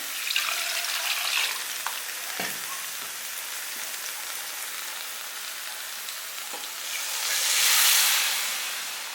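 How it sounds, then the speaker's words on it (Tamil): A continuous sizzling hiss of water poured into a hot pan of spiced soya chunks, with a few soft clinks, swelling louder near the end. "இப்போ இதில் கொஞ்சம் தண்ணி ஊற்றிக்கிறேன்"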